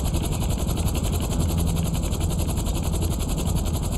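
Chopper rotor drone from a GTA V heist mission, a steady dense whir with a thick low-end rumble that holds constant and close throughout, with no talking over it.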